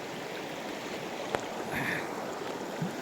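Soft, steady rush of a shallow, knee-deep river flowing, faint and continuous, with a brief click and a distant high tone briefly over it.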